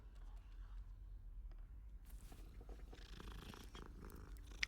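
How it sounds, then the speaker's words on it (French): A cat purrs in Hogwarts Legacy. The purr is soft and steady, a low continuous rumble with faint rustling and background game sounds over it. "Oh, chat."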